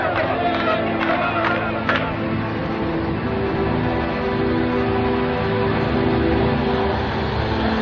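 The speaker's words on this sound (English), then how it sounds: "A tumultuous crowd gathers at Lod Airport to welcome home the returning heroes." A large crowd at Lod Airport roars and murmurs continuously in a wide open space, a dense wash of voices with scattered cheers and some applause.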